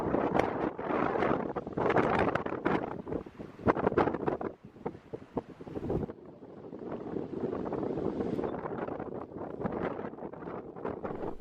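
Strong gusting wind on the cliff top at Filey Brig, North Yorkshire, buffeting the microphone in loud, rough bursts that swell and drop, with a brief lull midway before the blustery roar returns.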